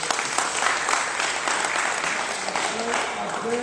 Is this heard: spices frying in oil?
no